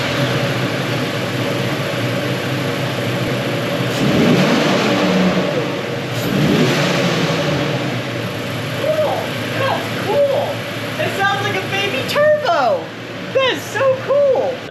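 A 2016-2023 Toyota Tacoma with a Rough Country cold air intake runs and revs, its engine rising and falling under a voice talking over it.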